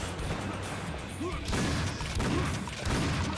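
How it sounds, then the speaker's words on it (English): Fireworks bursting in the chaotic first-person shooter Painkiller Gold, a dense, continuous crackle of explosive pops and booms swelling in waves over about three seconds, loud and close with no talking. "Fireworks! So cool!"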